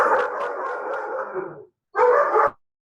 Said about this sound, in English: Sorry, my dogs are annoying.